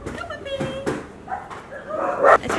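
Dogs at the Soi Dog shelter in Phuket, Thailand, give a few short barks and yips amid overlapping chatter from adults and children nearby.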